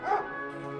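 A single short dog bark or yip, close and brief, followed by a faint whimpering tone, heard alone in a quiet morning setting.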